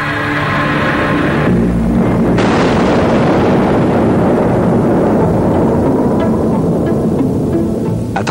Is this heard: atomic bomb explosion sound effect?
yes